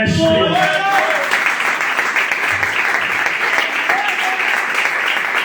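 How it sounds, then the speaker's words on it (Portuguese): A church congregation breaks into loud, sustained applause, with dense clapping filling the space and a few voices calling out over it. "Isso aplauda o mestre."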